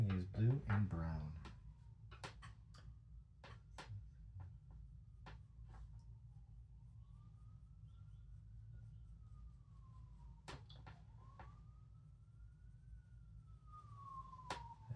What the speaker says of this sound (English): As always, a siren in the background.